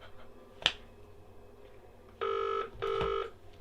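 A telephone rings twice in a scary animation, two electronic bursts of about half a second each in quick succession, preceded by a sharp snap-like click, with no speech.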